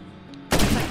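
A sudden loud burst of gunfire from the video game State of Decay erupts after a half-second of quiet background, a dense rattling volley that carries on to the end.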